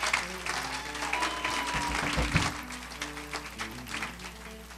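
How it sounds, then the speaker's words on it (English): A church audience applauds musicians after a gospel song, steady dense clapping that holds through the whole stretch at a moderate distance, with a brief low rumble partway through. "Let's give a big round of applause for these fantastic musicians."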